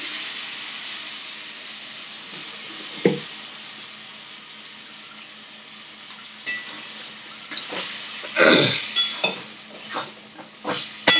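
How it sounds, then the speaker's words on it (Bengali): Boiled peas being stirred into vegetarian ghugni in a pan, with a steady watery hiss and a run of scraping, clinking strokes near the end; no one speaks. "মটর সেদ্ধ দিয়ে ভালো করে নাড়িয়ে নিল নাড়িয়ে নিচ্ছে"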